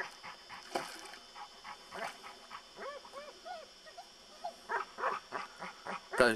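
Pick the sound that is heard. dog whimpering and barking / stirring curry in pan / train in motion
dog whimpering and barking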